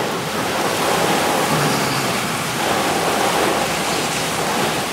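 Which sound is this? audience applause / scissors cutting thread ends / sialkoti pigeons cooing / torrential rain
torrential rain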